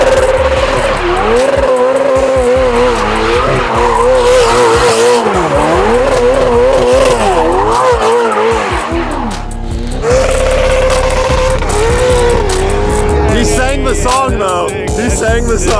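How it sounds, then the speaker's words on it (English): A 3-rotor Mazda RX-7 engine revs hard doing donuts while tires squeal and skid in sweeping arcs, loud and continuous, with a brief dip partway through. "So you won. That means you gotta do some victory donuts."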